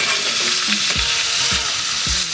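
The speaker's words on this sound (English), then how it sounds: "Flip it around. Scrape the pot. I want to scrape the pot." A spoon scrapes the bottom and sides of a pot of arroz con pollo over a steady sizzle, with three distinct low scraping strokes spaced about half a second apart, close and fairly loud.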